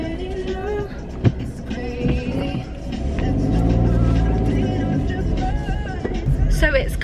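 Car pulling away after the handbrake is released on an evening drive, with a steady engine drone that rises and swells toward the middle, and a person talking throughout alongside music.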